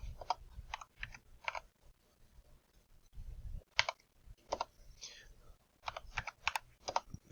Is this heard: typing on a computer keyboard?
yes